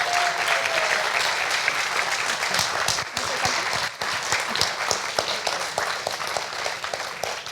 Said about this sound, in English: Everyone take a bow, clap for yourselves for such a wonderful performance.